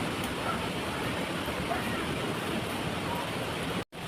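A waterfall rushes as a dense, steady broadband roar at close range, continuous and unbroken until a momentary dropout near the end.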